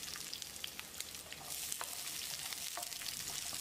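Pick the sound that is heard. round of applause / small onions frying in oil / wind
small onions frying in oil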